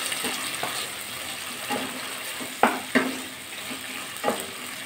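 Spiced potatoes fry in oil in a pan, a soft continuous sizzle broken by a few sharp scraping clinks of stirring, close and without voices.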